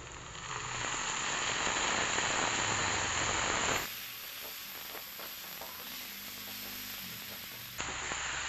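A little water is splashed into a hot pan of oncom leunca, the Sundanese fermented soybean-cake dish with leunca berries, and it sizzles and hisses loudly, then settles into a quieter steady fry while being stirred.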